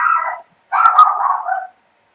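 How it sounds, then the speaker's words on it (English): A dog named Fenway barks at a garbage truck: two loud, close barks, the first short and the second longer and drawn out, then silence. "he won't stop barking at the garbage truck"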